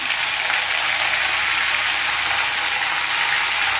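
Whole cumin and other whole spices sizzle in hot oil for a Bengali tempering, a steady, loud, hissing crackle with no break throughout.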